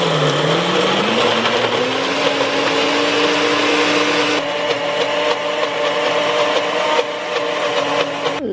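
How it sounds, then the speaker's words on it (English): A food processor blender whirs loudly and steadily, its motor pitch rising as it spins up and then holding a constant drone while the contents are chopped, with brief shifts in load near the end. "I hope this blender works well."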